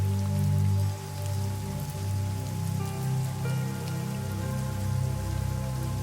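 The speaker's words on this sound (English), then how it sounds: "It will slowly begin to rain" Steady rain patters on a surface as a continuous soft hiss, with a low sustained drone running underneath throughout.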